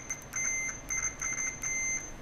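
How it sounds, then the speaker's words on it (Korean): A multimeter on continuity mode beeps as its probes touch the contacts of a switch during repair: several short high-pitched tones in an uneven on-off pattern, clear and close over faint background hiss. "삐삐삐 소리 나죠"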